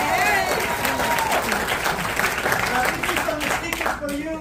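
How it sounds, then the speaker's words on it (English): An improv show audience at a festival gives a dense, loud round of applause that runs the whole time, with voices and cheers mixed into the clapping. "Give me one big applause."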